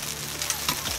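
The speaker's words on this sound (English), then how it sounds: "You can hear the rain right now." Rain falls steadily in the woods during a turkey hunt, a dense, even hiss of patter with a few slightly sharper drops, close and continuous.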